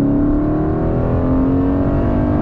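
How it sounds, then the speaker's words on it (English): The front-mounted V8 of a 2021 Aston Martin Vantage Roadster roars steadily up close, a deep continuous rumble with a sustained revving hum and no speech. "Still hearing that V8 front engine"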